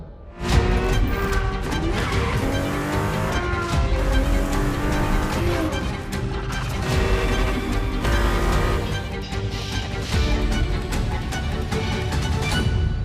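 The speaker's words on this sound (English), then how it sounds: "The Ferrari F50, a bridge between road and racetrack." A Ferrari F50 in the racing game The Crew Motorfest roars steadily at high revs. Tires squeal and skid throughout, and the sound stays loud and continuous for the whole stretch with no speech.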